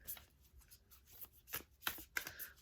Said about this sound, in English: They are pretty sticky at first, so you do have to shuffle them a few times.